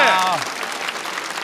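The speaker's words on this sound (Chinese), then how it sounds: "让我们再次把掌声送给各位" A comedy-show audience breaks into loud, sustained applause up close, with a voice briefly speaking at the start.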